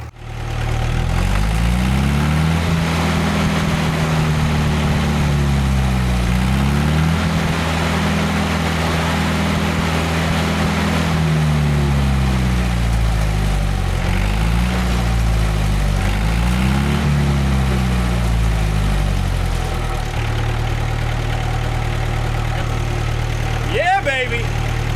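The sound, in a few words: engine drive welder engine running and throttled up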